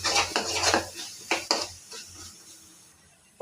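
A metal spoon stirs egg curry mixture with chili powder, turmeric, salt and curry leaves in a pan. It makes quick scraping clinks in short bursts, then a quieter tail, with no talking.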